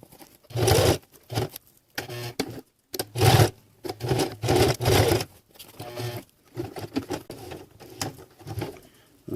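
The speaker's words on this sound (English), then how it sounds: "Once again, I'm sewing through those MOLLE straps. Every time I get to one, my machine has a little bit of difficulty." A home sewing machine stitching through MOLLE/PALS webbing straps on an accessory pouch, running in short uneven bursts with pauses, as if labouring through the thick layers; nearby and fairly clear, no talk.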